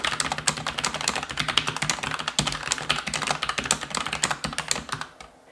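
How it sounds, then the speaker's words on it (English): Rapid, loud clacking of a Logitech MX Mechanical keyboard with tactile switches being typed on quickly, a dense run of crisp key strikes that stops abruptly at the end. "this is Logitech's idea of what tactile switches sound like on their MX Mechanical keyboard"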